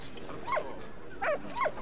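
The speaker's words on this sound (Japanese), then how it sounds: "ワンちゃんが鳴いてるのはなんで？" In Valiant Hearts: The Great War, a game set in the First World War, a dog gives three short, high whimpering yelps, soft and close, spaced across under two seconds.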